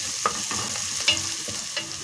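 Garlic cloves frying in oil with onion that has gone limp, a steady close sizzle broken by a few sharp scraping stirs at a regular pace, with no voices.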